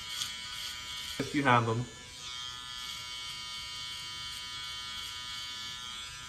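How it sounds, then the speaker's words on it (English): An electric balding shaver hums continuously while shaving a head during a high taper self-haircut, a close, steady buzz. Someone speaks briefly over it near the start, then the buzz carries on alone. "take your balding shavers,"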